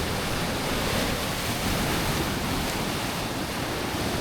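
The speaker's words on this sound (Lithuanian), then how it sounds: "Reikia pažiūrėti, kur bangos pareina" Ocean waves surging against the rocky coast of Lombok, a loud, continuous wash of broadband roar with wind buffeting the microphone; no one speaks.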